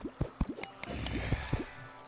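Water trickling and dripping in the Terraria video game, a few close wet drips and squishy splashes in an uneven rhythm over a faint steady flow, with no talk.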